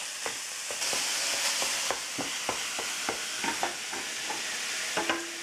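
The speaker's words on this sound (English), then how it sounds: "we're going to continue cooking the pork until it's brown" Ground pork fries over medium-high heat in a pan, a continuous sizzle broken by repeated spatula stirs and scrapes at an irregular pace, close and clear, with no talking.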